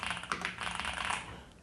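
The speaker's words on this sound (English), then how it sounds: "The tapping sound is probably loud enough to disturb other people in an office setting." Rapid typing on a Yunzii AL65 hollow aluminum mechanical keyboard, a dense run of bright clacking keystrokes, close and fairly quiet, with no voices.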